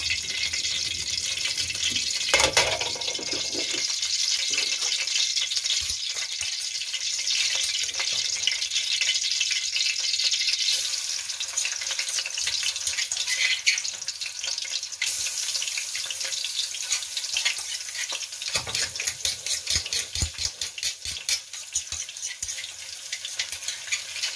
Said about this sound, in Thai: ทีนี้เรามาผัดกันเลยนะคะ